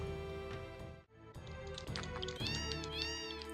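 Cats meowing in a Final Fantasy VII mod, several overlapping drawn-out meows and wails, loud and close, with a brief pause near the start before more cries follow in quick succession.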